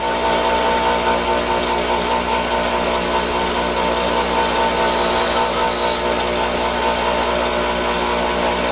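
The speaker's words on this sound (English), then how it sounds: "just throw them up here on your grinder and get with it" Bench grinder steadily grinding a worn, slightly abused high-speed steel lathe tool bit, a continuous loud whirring hiss with no pauses and a brief brighter scrape partway through.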